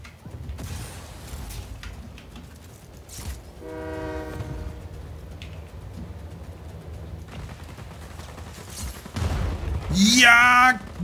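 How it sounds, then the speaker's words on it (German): An armored train in Just Cause 4 gives a loud, sustained horn blast near the end, preceded by a shorter horn call, over rumbling rail and mechanical noise, with game effects throughout. "Der Zug bleibt gleich stehen."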